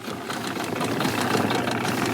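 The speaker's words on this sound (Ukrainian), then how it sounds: "заводимо двигуна" Outboard boat motor starting up and running on a winter fishing trip, a steady rough mechanical drone with knocking texture that holds fairly loud and close throughout.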